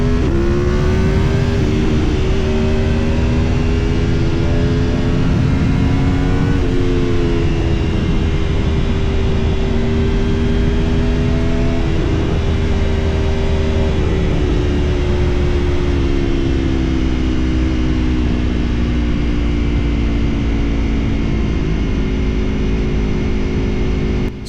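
Aprilia Tuono RSV4 motorcycle from 2015, with a swapped engine, being ridden; a loud, steady, close engine drone with rising and falling pitch as it revs and shifts through gears for the whole stretch, no talking.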